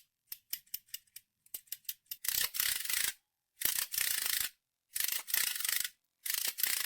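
A finger-ring fidget spinner toy is rubbed in quick bursts, first a run of short sharp scratchy strokes, then longer raspy rubbing swipes separated by brief silences, close and fairly quiet.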